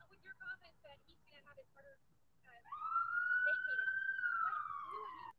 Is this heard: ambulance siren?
yes